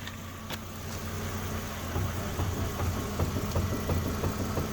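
Steering noise from a 2004 Volvo V70 as the wheel is turned: a steady low engine drone with a run of faint rhythmic knocks and groans growing slightly louder in the second half, heard close with no talking.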